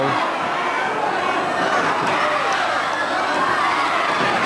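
Wrestling arena crowd in a Dynamite Kid versus Marty Jones bout roaring and cheering together during a pin count, a dense, loud, sustained wall of voices with shouts rising throughout.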